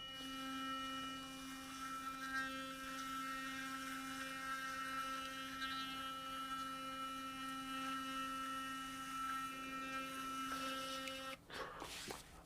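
A Burst electric toothbrush whirs with a steady, high electric buzz during brushing, holding an even tone for several seconds before cutting off with a brief clatter near the end.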